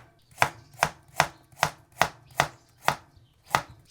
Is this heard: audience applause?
no